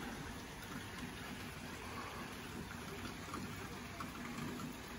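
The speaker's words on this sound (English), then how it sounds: "Raining pretty good." Steady rain falls in a dense, even patter, close by and fairly loud, with no voices.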